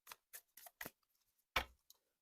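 Tarot card deck being shuffled by hand, a handful of quick papery riffles and taps separated by short pauses, then one louder thump, heard close in a quiet room.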